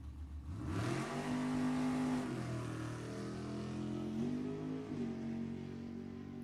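A '76 Monza Super Gas drag racing car launches and accelerates hard down the strip, its loud engine roar climbing in pitch, dipping briefly at a gear shift, then pulling on steadily with no talk over it.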